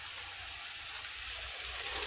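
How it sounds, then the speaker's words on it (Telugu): Boiled rajma (kidney beans) tipped into a pan with their cooking water, a steady close hissing, rushing wash with no talk. "ఇప్పుడు మనం మన రాజ్మా అయితే వేసేసుకుందాం"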